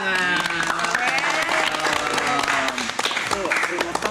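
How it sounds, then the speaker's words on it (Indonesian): Quick bursts of hand clapping from passengers crowded on a bus, mixed with loud chatter, laughter and music, close and lively. "Tepuk tangan."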